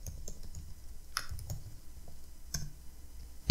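Light, dry computer mouse clicks tap at close range in a quiet room, scattered singly at an uneven pace.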